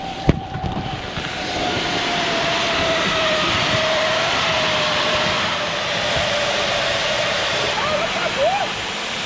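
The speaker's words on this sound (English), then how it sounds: "That's the overflow valve" A life raft's overflow valve venting excess air in a steady broadband hiss that runs continuously and loud throughout, with a thin whistling tone sliding through it and a brief sharp knock near the start.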